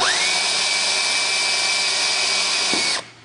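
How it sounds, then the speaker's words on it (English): A cordless power drill runs at a steady high whine for about three seconds, spinning up sharply at the start and cutting off abruptly near the end, with no voices. "when you drill that through"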